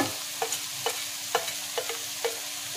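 Pre-fried bitter gourd tipped into a pan of shukto and stirred, giving a steady low sizzle with several sharp scraping clacks of a spatula against the pan at irregular intervals.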